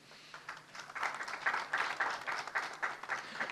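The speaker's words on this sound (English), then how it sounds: "We give them all a big round of applause." A conference audience gives a round of applause for panel guests, clapping swelling after a soft start and holding steady for a few seconds.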